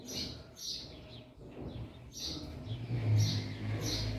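A papa-capim mateiro finch sings repeated bright high phrases from somewhat far off, one burst after another, over a low rumbling background.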